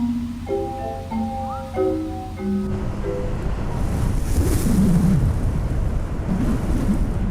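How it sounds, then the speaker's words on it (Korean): Storm-driven waves on the Sinduri coastal sand dunes, a loud, continuous roar of surf and wind that rises after a brief stretch of soft tonal music. "모래 언덕에 폭풍이 몰아친다."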